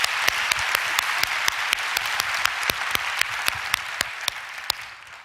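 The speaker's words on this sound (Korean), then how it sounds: "감사합니다. 이렇게 박수." A church audience claps steadily for several seconds, a dense wash of many hands with a few sharper individual claps standing out, fading slightly at the end.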